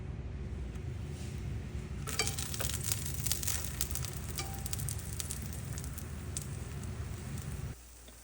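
A low carb tortilla frying in olive oil in a pan, crackling and sizzling steadily, close and busy with dense popping bursts that swell then cut off near the end, no voices.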